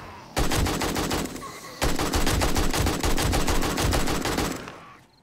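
An AK-47 fires in the video game 7 Days to Die: two long bursts of rapid automatic gunfire, loud and close, separated by a brief pause.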